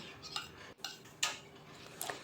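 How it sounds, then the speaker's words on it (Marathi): A spoon clinks and scrapes against a metal pot while stirring milk mixed with cardamom and nutmeg powder, a few sparse light taps and rattles, close and quiet. "दुधामध्ये मी थोडीशी माझ्याकडं वेलची पूड आणि जायफळ पूड मिक्स केलेलं होतं ती मी घातलेली आहे आणि ते दूध मी ढवळून घेते आहे"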